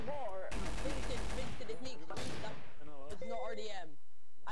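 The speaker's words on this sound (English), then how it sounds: "I'm being shot at." Bursts of video game gunfire during online roleplay play, loud crackling volleys in several clusters, with excited voices talking over and between the shots.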